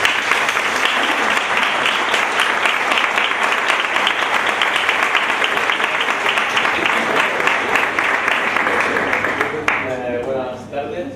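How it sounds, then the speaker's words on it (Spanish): Audience applause at a candidacy presentation for the Compromiso por Cox list, sustained dense clapping from a crowd for about ten seconds before fading as a voice begins to speak. "Un aplauso."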